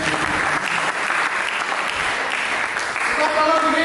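A church congregation applauds, a loud, sustained wash of many hands clapping continuously, with faint voices underneath.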